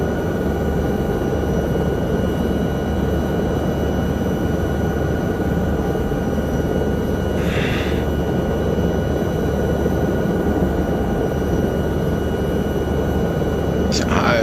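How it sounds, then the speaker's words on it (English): A powerful helicopter in a flight simulator game, flying over the Alps on a mountain rescue mission, gives a steady, continuous rotor and engine drone throughout, with faint speech at points. "This is a very powerful helicopter."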